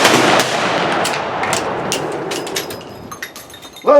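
A volley from Victorian-era rifles at a reenactment shoot in Bowling Green, Kentucky: a loud, sharp blast that rings out and decays over a few seconds with scattered echoes and clinks, followed by a brief sound at the end.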